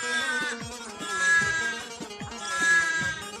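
Newborn lambs kept warm indoors during the coldest weather bleat repeatedly, several overlapping high wavering calls close by in a rough rhythm, with no talking.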